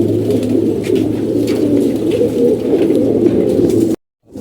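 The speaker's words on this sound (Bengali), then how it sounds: "ওনার কাছে এখন বাড়ি ভরে এই সমস্ত কবুতর" Many pigeons, mostly non-white, coo in a dense, continuous murmur in a house full of birds in Mirpur, several close together, loud and steady before cutting off abruptly.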